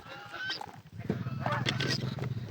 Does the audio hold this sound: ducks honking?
yes